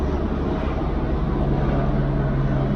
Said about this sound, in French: On va laisser passer l'hélicoptère.